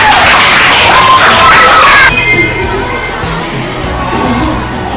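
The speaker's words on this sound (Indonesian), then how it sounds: "Tepuk tangan buat Bu." A school audience of children cheers and shouts loudly in a hall, with an excited burst of crowd noise that drops off suddenly and settles into a lower, continuing murmur of voices.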